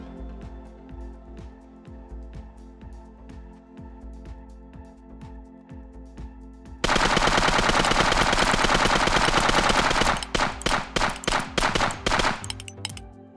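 Submachine gun fire in an indie video game level test. After quiet mechanical game sounds, a loud dense burst of rapid automatic shots breaks out, then gives way to a string of separate sharp cracks that trail off.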